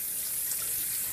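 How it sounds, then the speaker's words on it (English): Tap water runs steadily into a sink while a chicken is washed, a constant soft hissing splash with no voices. "Just mind how I wash this chicken"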